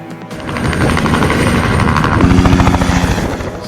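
A helicopter flies close by, its rotor making a loud, steady, throbbing drone that continues throughout with no voices.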